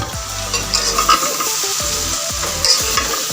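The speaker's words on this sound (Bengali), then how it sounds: "সব কিছু উপাদান দিয়ে আমি ভালো করে কষিয়ে নিয়েছি এঁচোড়, চিংড়ি, আলু" Jackfruit, prawns and potatoes sauté in a pan, giving a loud, steady sizzle with repeated scraping and stirring strokes and occasional utensil clinks, close up and with no voices.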